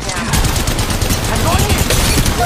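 Rapid gunfire in the mobile shooter Apex Legends Mobile, a fast burst of automatic shots running under game effects and background noise.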